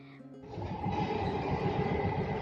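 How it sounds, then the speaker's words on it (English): A metro train pulls into the station, its rumble and rhythmic wheel clatter swelling from a faint hum to a steady, moderately loud rolling noise over a couple of seconds. "Here I am waiting for my metro, and there it is"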